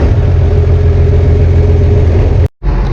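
An old Field Boss tractor engine starts after half a crank, a loud, steady rumble and idle with a deep low throb, then cuts out abruptly for a split second before resuming.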